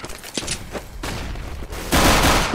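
In a Counter-Strike match, a flashbang and bursts of gunfire crack in sharp, loud volleys that end in a sustained roar of noise, close and aggressive.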